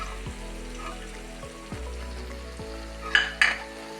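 Salted ingredients frying in a pan for egg rice, a low steady sizzle with a couple of brief sharper clatters near the end, close and fairly quiet.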